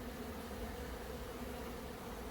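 Honeybees working and cleaning the entrance of their hive beside lime trees, a faint, steady, close buzzing hum with no voices.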